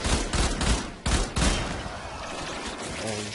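Guns fire in Warframe, played as Volt Prime: rapid bursts of gunfire crackle loudly through the first second and a half, with sharp shots standing out, then thin out into a quieter wash of fading noise.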